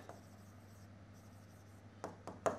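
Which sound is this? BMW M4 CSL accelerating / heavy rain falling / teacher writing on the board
teacher writing on the board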